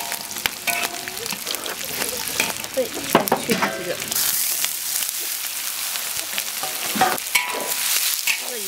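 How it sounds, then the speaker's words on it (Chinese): Pork lung fries in a wok as its fat renders out, loud crackling sizzle with repeated scraping of the spatula, and a brief spoken word in between. "这个你看油炸出来了，把里面的油炸出来"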